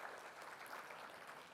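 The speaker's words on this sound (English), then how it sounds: "claps for all the organizers and everyone." An audience at a cloud monitoring tech event claps for the organizers, a steady wash of applause that stays very faint and distant throughout.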